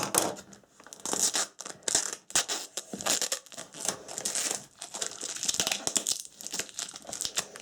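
Plastic shrink-wrap and packaging crinkle and tear off a tightly sealed game box, with close, continuous crackling bursts and ripping throughout and no talk.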